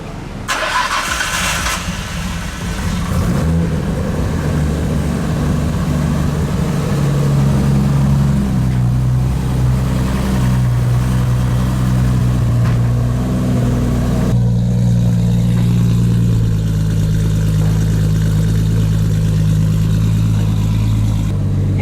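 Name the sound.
Nissan Skyline GTR R33 engine starting and idling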